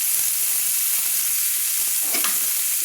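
Chicken pieces frying in hot oil in a kadai over a high flame, giving a steady broadband sizzle with a brief louder crackle of stirring or spattering near the end, close and alone.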